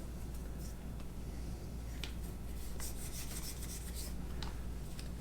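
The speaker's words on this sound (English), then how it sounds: "You'll notice I'm rubbing the stocks. These are wood stocks." Wooden revolver stocks are rubbed with a cloth and gun-cleaning solution, giving a steady, close scrubbing and rasping texture with a few faint clicks scattered through, and no speech.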